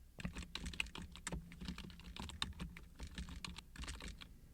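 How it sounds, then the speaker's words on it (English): Soft, quick keystrokes clatter on a computer keyboard during AutoCAD drafting, a steady irregular stream of close, quiet clicks with no talking. "I'm going to type in"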